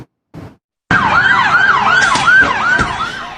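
A Red Cross ambulance siren wails loud and close in a repeating rising-falling sweep during street protests in Quito, preceded by a brief burst of noise.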